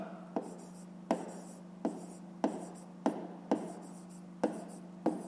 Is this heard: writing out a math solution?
yes